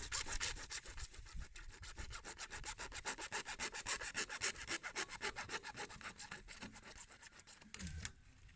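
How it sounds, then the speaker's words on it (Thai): A frameless hand saw cuts through PVC pipe in quick, steady back-and-forth strokes, a rasping rhythm that stops near the end. "ทำการเลื่อยตัดท่อเลยครับ"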